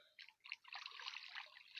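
A small crucian carp drops into the water of a fishing pond, giving a faint burst of splashing and trickling drips that runs for under two seconds.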